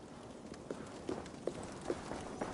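Horse hooves in the video game Assassin's Creed Valhalla, a faint series of about five evenly spaced clip-clop beats over a soft background hiss.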